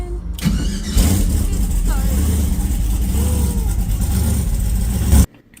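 A Camaro's engine cranks and fires up after its fuel pump and ignition are switched on, then runs loud and close at a rough, steady idle before cutting off abruptly, with a voice speaking briefly underneath.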